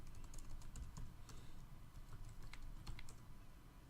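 Faint, quick clicking of keys as a password is typed on a computer keyboard, sitting low beneath a steady hiss of background noise.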